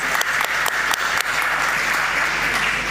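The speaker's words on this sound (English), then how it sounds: "can we applaud that, please?" Applause from a press conference audience, a dense continuous wash of many hands clapping, loud and sustained for the whole stretch.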